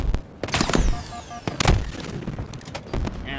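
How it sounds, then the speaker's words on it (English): Halo Infinite gameplay gunfire, a sniper rifle among several sharp loud cracks with echoing tails over busy in-game noise, two or three shots standing out in quick succession. "And that's where I got sniped."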